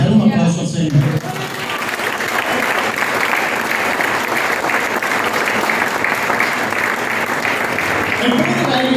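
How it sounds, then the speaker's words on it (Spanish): A congregation claps loudly during a Spanish-language church service, with thick, continuous applause that swells in after a brief pause and holds steady to the end. "Dale un aplauso al Señor."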